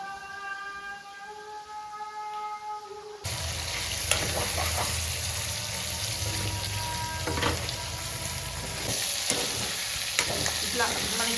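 A faint tonal hum gives way to loud, steady sizzling as food fries in a pan, with scraping and clinking of a spatula stirring it at intervals throughout.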